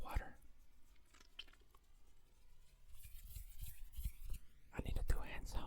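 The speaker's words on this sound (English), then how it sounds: "I have a lot of croutons and I'm about to eat a lot of them" Soft, close-up crunching and chewing of croutons in quick bursts, growing louder toward the end, with quiet whispering in the background.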